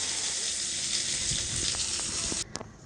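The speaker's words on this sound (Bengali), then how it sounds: "রান্না করছি একদিকে মাছের ঝোল হবে আর ওলকপি ভাজা হবে" Kohlrabi frying in hot oil during home cooking alongside a fish curry, a steady close sizzle that runs evenly before cutting off abruptly near the end, leaving a few faint clicks.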